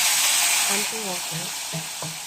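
Water hitting a hot pan of pork cubes, with loud, steady sizzling and hissing that fades slightly, while a voice talks underneath.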